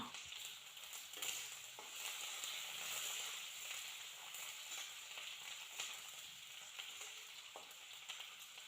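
Onions, bay leaves and dried chillies sizzling quietly in oil, a steady hiss with light crackles and a few soft stirring taps.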